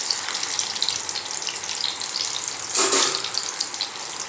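Vegetables for undhiyu frying in oil, a dense, continuous hiss and sizzle that swells briefly near the end, with no talking.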